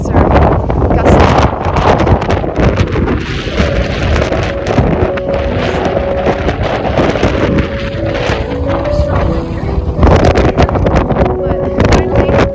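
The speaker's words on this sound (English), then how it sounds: "It's pretty windy up here. I'd say gusts are gusting." Strong wind gusts buffet the microphone on a windy mountain summit, a loud continuous roar with surging bursts throughout.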